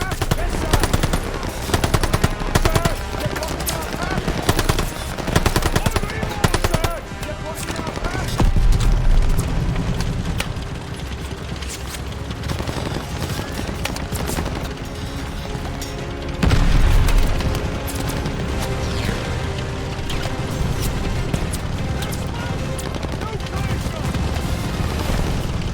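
Dense, continuous machine gun fire from the video game Call of Duty Vanguard, sustained bursts mixed with heavy booms and explosions, loud throughout, with shouted in-game voices underneath.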